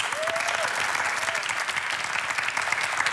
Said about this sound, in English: Now let's give him a round of applause